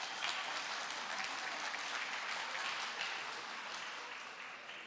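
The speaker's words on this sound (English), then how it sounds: "you really give yourselves a pat on the back and a round of applause" Applause from participants at a citizens' assembly, a faint, even wash of clapping that holds steady and slowly tapers off, with no talk on top.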